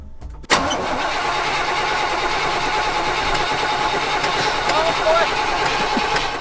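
A carbureted GMT400 truck engine cranks and catches with a sharp onset, then settles into a steady, rough mid-pitched idle close by, with a voice speaking over it.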